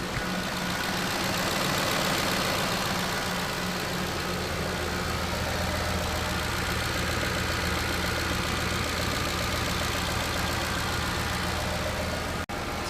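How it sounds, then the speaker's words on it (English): Car engine idling steadily with noisy injectors, a continuous close, loud running drone with a faint rapid ticking texture throughout and no talking. "The injectors are very noisy on this engine"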